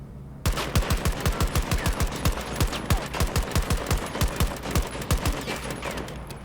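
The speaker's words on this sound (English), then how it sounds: "We'll just go ahead and shoot semi-auto just to give a bit of a demonstration there." Rapid semi-auto gunfire in Battlefield 2042, a long string of evenly spaced sharp shots at a steady quick rhythm, loud and close, with no talking.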